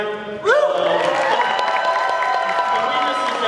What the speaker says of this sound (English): round of applause for our ASL interpreter